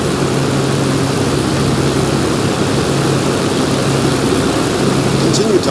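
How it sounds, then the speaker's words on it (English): A propeller aircraft engine idles in the DCS World flight simulator, giving a steady, loud, even drone with a low hum that holds unchanged throughout. "Continue to idle the engine at 1000 to 1200 RPM until ready to taxi or perform a pre-flight check."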